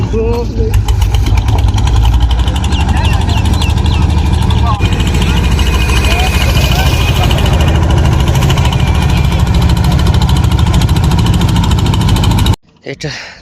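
A trawler boat's engine running on a canal beside the Jamuna River in Sirajganj, a loud, close, steady chugging drone that carries on for over twelve seconds before abruptly cutting out.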